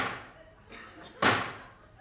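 Someone bangs on a door: a dull thump, then a second, louder and sharper bang that fades out over a quiet room.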